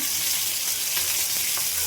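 Fried fish and spices sizzling as they are stir-fried in a pan, a constant close crackling hiss with faint scraping stirs, no talking.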